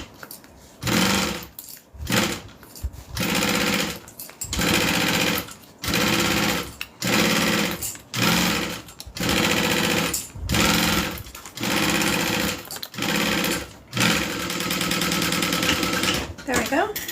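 A sewing machine stitches a bag's lining down to its zipper, running in close, loud bursts of one to two seconds separated by brief pauses, repeated steadily throughout.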